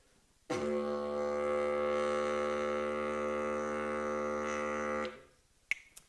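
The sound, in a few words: didgeridoo drone played by buzzing lips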